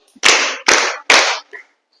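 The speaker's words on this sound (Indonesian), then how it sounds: "Yuk, tepuk tangan 3 kali." Schoolchildren in a classroom clap their hands together in three sharp, loud, evenly spaced bursts, followed by a brief quiet tail.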